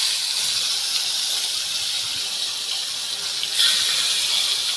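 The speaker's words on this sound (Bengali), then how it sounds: "এখন হলুদ মরিচ মাখায় রাখা মাছগুলো দিয়ে দিব" Tilapia pieces coated in turmeric and chili sizzle in hot oil in a blackened frying pan, a steady broadband hiss that surges louder near the end as more fish goes in.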